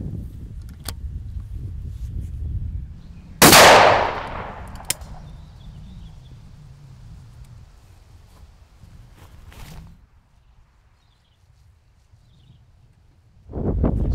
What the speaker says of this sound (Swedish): Sista skottet på 20 meter, halv varning och med stålskotten 28 grams sjuor.